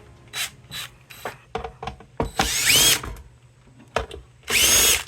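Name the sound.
power drill removing fasteners from inverter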